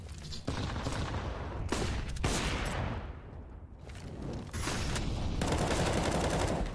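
Loud bursts of rapid gunfire ring out in a professional Counter-Strike match between MIBR and EG, several volleys in quick succession with short gaps, no speech.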